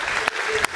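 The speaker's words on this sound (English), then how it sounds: "big applause" Dense clapping from a crowd, a steady wash of applause with a couple of sharper claps standing out.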